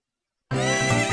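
Epona the horse in Ocarina of Time gives a single loud, close whinny that bursts in abruptly after silence.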